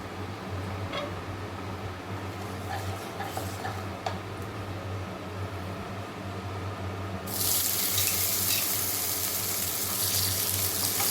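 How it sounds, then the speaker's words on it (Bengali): Potatoes and taro hitting hot oil tempered with cumin in a wok, a steady low hiss that suddenly swells into a loud, bright, continuous sizzle partway through, with no talking. "এখন ওই কড়াই তেলের মধ্যে এখন একটু জিরে ফোড়ন দিয়ে নিলাম, দিয়ে আর এর মধ্যে এখন আলু আর কচুগুলোকে একটু ফ্রাই করে নেব।"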